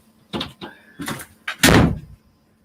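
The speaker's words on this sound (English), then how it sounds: "Hold on, I've got to shut this door." A door being shut indoors: a few bumps and handling knocks, then a louder, fuller slam that decays quickly, with no talk.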